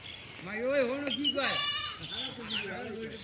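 Goats bleating on a farm, two or three wavering calls close by, mixed with a person talking.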